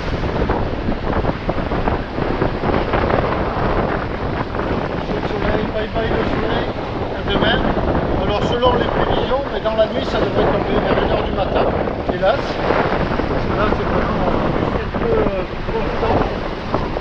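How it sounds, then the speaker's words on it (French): Strong, cool wind buffets the microphone in a constant loud roar on a sailing boat at sea, with people talking faintly underneath and a hint of water nearby. "il fait frais, avec ce vent là qui vient de là"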